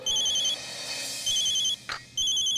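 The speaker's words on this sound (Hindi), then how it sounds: "किसका फोन है?" A telephone rings indoors in a repeating electronic pattern of short bursts with brief gaps, fairly clear and close, with a faint shuffle between rings and no talking.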